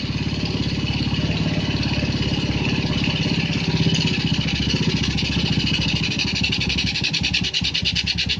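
A 2003 Yamaha Jupiter Z motorcycle engine runs close and loud at a steady, fast rhythmic putter with high revs held throughout, and no voices are heard.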